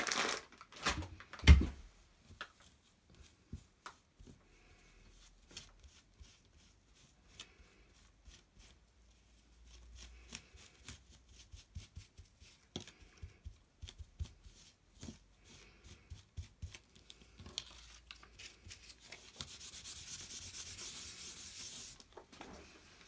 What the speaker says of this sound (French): Je vais juste nettoyer mon pochoir, sinon je vais l'oublier.